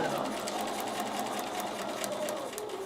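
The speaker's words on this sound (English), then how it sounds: "start sewing" A sewing machine stitching paper-pieced quilt strips of half-square triangles, a close, steady whirring drone that runs continuously, with a voice speaking over it.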